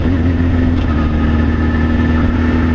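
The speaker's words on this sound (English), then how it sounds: "I love the way this bike sounds." A track motorcycle engine runs at a steady idle, a loud, constant droning hum with a low throbbing pulse, close by and unchanging throughout.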